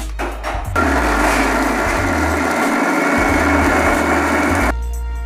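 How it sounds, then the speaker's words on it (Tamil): Electric mixer grinder whirring loudly for several seconds as it grinds roasted spices with ginger and garlic into a paste, with short bursts and clatter as it starts and stops. "இந்த ரெண்டையும் மிக்சியில் போட்டு ஒரு பேஸ்ட் மாதிரி அரைச்சிக்கோங்க"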